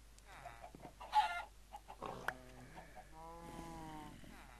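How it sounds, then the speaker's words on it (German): Several Minecraft chickens cluck and squawk in short bursts, one sharp cry standing out, with quieter clucking continuing throughout. "aber Hühner haben in diesem Stall nichts zu suchen"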